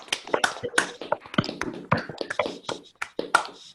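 Participants in an online meeting clap unevenly through their microphones, with scattered overlapping claps and taps that come in uneven bursts.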